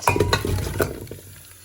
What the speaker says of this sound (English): you're gonna saute this